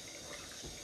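Hot water runs steadily from a bathroom tap while someone gets ready to shave, a continuous close hiss with no talking.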